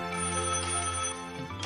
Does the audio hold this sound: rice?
no